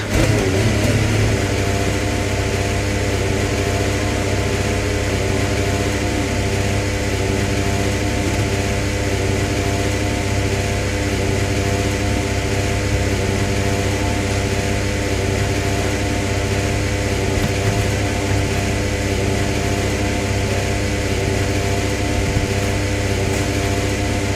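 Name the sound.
Formula 1 car engine running in F1 25 video game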